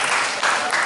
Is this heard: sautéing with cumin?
no